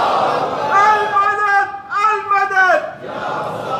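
A mosque crowd at a Friday sermon chants religious slogans in unison, loud voiced chant phrases in two bursts with a short gap between, a crowd murmur around them.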